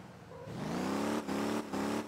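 A new car in the Motor Town driving game revs up, its engine tone climbing and then holding steady with two brief dips, as if through gear changes, loud and close with no talk.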